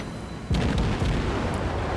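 The 130mm guns of the destroyer Grim in World of Warships open fire with a loud, sudden boom, followed by a quick run of rumbling blasts that carry on at a heavy, sustained level.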